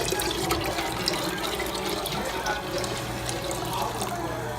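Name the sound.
pouring hot tea into water for kombucha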